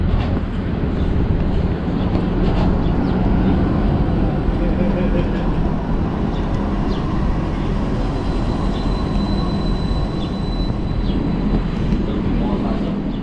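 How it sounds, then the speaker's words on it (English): A Stadler Variobahn tram of seven cars pulls into a light rail stop near the central bus station in Bergen, with a steady loud rolling rumble and faint squeals lasting throughout. "and here we can see our tram arriving."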